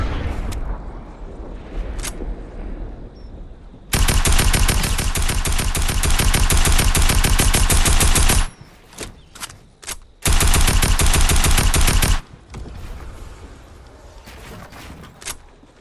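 An assault rifle in Fortnite fires in loud, sustained automatic bursts: a few scattered shots, then a long rapid volley, a pause with isolated cracks, another long burst, and a few final shots.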